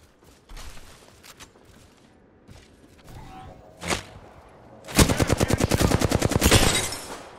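Sniper fire in Apex Legends: scattered single shots ring out, one sharp crack stands apart, and then a loud rapid burst of automatic gunfire rattles for over two seconds, close and harsh.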